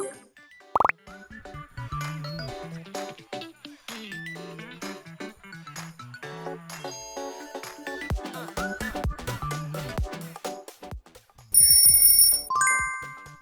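A Motorola smartphone ringtone plays alone: a bright, plinking melodic sequence of bell-like tones with a few sharp plops, ending in a louder burst of high chimes.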